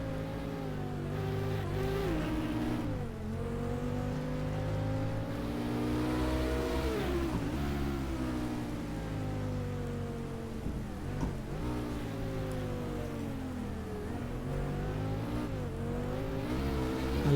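Race cars in the GTR2 racing game at Suzuka, engines revving loudly with rising and falling pitch as they shift through gears, continuous and close, no talking.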